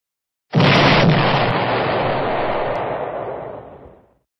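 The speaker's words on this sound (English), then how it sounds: "Oh dear, the cake exploded" A giant cake explodes in a single loud, sudden blast that holds a roaring, broadband rumble for a few seconds before fading out, heard alone with no talking.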